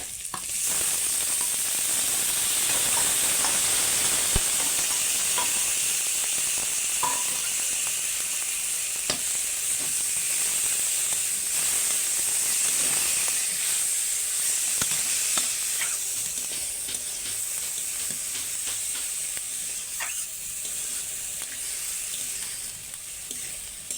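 Boiled banana flower stirred and fried in a hot pan, a continuous sizzle with scattered scraping ticks of a spatula across the metal, close and steady, no speech.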